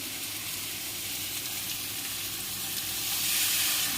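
Masala simmers and fries in a pan after water is added, a steady hissing sizzle that swells slightly louder toward the end, with no talking.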